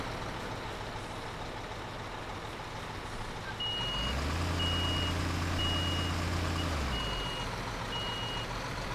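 Truck reversing alarm in Construction Simulator 2015, a steady series of evenly spaced high beeps over a deep idling engine rumble that rises midway, with constant background machinery noise and no talking.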